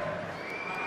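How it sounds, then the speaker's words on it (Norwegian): A Rosenborg football crowd roaring and cheering after a goal in a 2017 league match, a dense, steady wall of stadium noise lasting under a second. "Og det får RBK-fansen til å juble"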